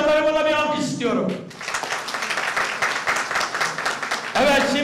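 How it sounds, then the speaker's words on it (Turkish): A crowd at a political gathering in Dalaman applauds past district chairmen. The brief burst of clapping sits between stretches of someone talking through amplification. "Geçmiş dönem Dalaman ilçe başkanlarımla bir alkış istiyorum."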